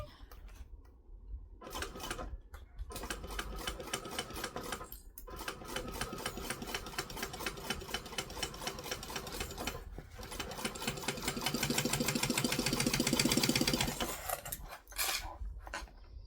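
A sewing machine runs a half-inch seam at a 2.5 stitch length on a kangaroo toy, a fast, steady, close whir broken by a few brief stops and restarts.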